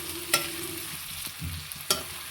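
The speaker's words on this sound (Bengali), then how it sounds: "ফোড়নের পেঁয়াজটাকে আমি লাল করে ভেজে নেব।" Chopped onion with whole cumin and bay leaf tempering in hot oil, a low steady sizzle broken by two sharp stirring clinks and a few soft scrapes.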